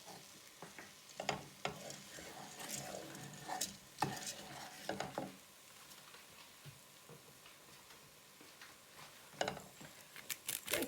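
Faint stirring and scraping of a spoon in a pot as dried sage and tomato puree go into a sausage and mushroom rice dish, with soft clinks and scattered utensil knocks amid a quiet background.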